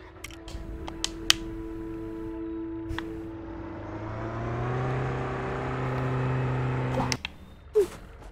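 Major Steel's Hot Rod, a car in the LEGO Worlds video game, runs with a steady engine hum that swells as it revs up over several seconds, then cuts off abruptly, leaving a few short clicks and thuds.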